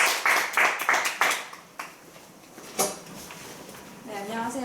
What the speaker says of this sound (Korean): 박수로서 환영합니다.